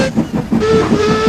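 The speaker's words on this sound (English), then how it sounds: "Then, she heard a pair of familiar whistles." Train engine whistles sound as a steady, sustained tone over rhythmic rail clatter and chuffing, fairly loud and close, with no talking.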